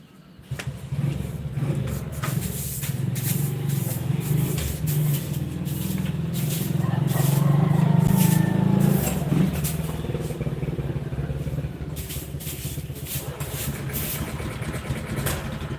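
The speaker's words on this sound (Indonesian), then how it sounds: "mesin traktor" A tractor engine idles steadily at moderate distance, a low continuous rumble with a slight rise in revs midway before settling back to an even running drone.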